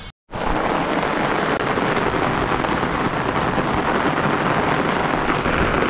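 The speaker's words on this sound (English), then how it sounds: "Man, it's raining cats and dogs out here. I don't know if you can hear it from the umbrella." Heavy rain drums steadily on an umbrella outdoors in Cachipay, Colombia, a dense, loud, continuous hiss that starts abruptly and carries on unbroken with no voices.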